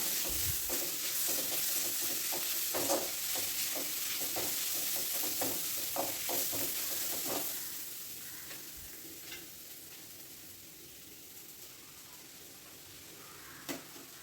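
Crushed ginger and garlic sizzle and sauté in a hot pan with oil, a steady frying hiss broken by scraping stirs near the start that ease off, leaving a quieter simmering crackle.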